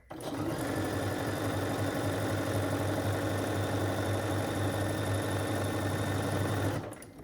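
A sewing machine runs steadily for about seven seconds, stitching a quarter-inch seam along fabric strips for a rail fence quilt, with an even mechanical whir that starts and stops abruptly.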